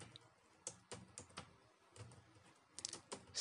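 Keys on a computer keyboard clatter in quick, uneven bursts of clicks with short pauses between them, close and fairly quiet in a still room.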